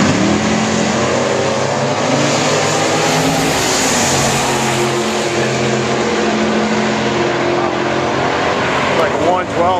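Loud, continuous engine roar of race cars accelerating down the Knoxville drag strip, with a rising whine near the end and voices faintly underneath.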